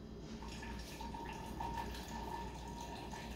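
Boiling water pours for coffee in a kitchen, a faint steady trickle and splash that runs unbroken and low under a quiet background hiss.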